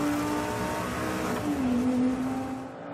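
A Lamborghini Sesto Elemento with 570 horsepower driven hard on a track, its engine droning and revving as it passes, the tone dipping then rising before fading out at the end.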